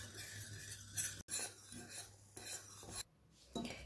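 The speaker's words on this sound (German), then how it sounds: "das werden wir unter ständigem Rühren aufkochen" A spoon stirs a thickening vanilla mixture in a pot on the stove, making faint rhythmic scraping strokes with brief pauses.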